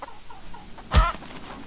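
Chickens in the video game Hollow Cocoon give a brief, loud cluck burst near the middle, standing out over a low, quiet game background.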